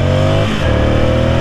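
A Ducati Monster 600 motorcycle engine revving up close, its loud idle climbing into a sustained rev before settling at a steady, throaty pitch.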